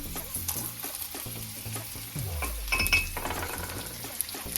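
Dried chillies and other tempering ingredients frying in oil in a pan for rava upma, a steady close sizzle with utensil clinks and stirring scrapes, no voices.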